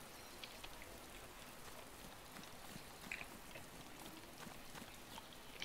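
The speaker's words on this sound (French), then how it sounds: "Oh, il pleut." Steady rain falls in the survival video game DayZ, a soft continuous hiss of droplets with scattered faint patters, quiet and even throughout.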